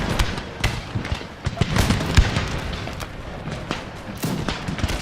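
Musket volleys and cannon booms from an Empire: Total War battle during an assault on a fort, an irregular crackle of overlapping shots and thuds that carries on steadily throughout.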